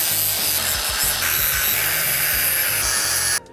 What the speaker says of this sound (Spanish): Ahora con la radial lo voy a alisar todo esto